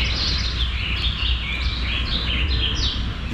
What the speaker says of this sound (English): You close your eyes and you hear birds.